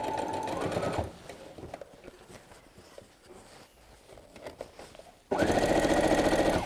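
A sewing machine stitching apron straps whirs loudly in a short burst, falls to quiet handling and rustling, then starts up again loud and close.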